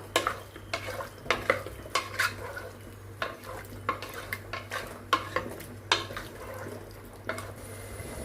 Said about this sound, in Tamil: நல்லா இதையும் நான் இப்போ மிக்ஸ் பண்ணிக்கிறேன்.